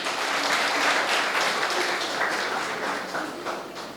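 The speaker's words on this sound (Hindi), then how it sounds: "एक साथ सबका स्वागत तालियों से कर लें।" An audience claps in welcome for guests at a public gathering, a dense, fairly loud burst of applause that holds steady and then gradually tapers off.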